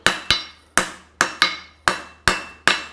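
Hammer blows on a horseshoe being forged, cleaning up the heel cork of a hind preventer shoe: eight sharp, ringing metallic strikes in an uneven rhythm, close and loud, each with a short decaying ring.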